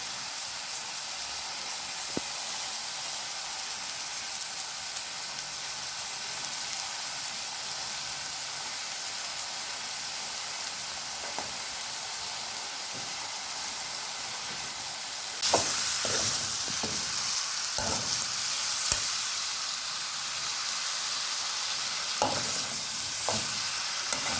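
Curry leaves fry in hot oil for Kerala pepper chicken, a continuous close sizzle and hiss that grows louder later, with scraping stirs and utensil knocks toward the end.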